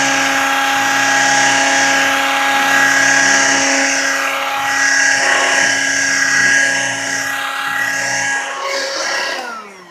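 A Hoover brush vac and a Dirt Devil Model 103 hand vacuum run together, a loud steady motor whine with strong tonal hum that wavers slightly, then winds down as one motor stops near the end.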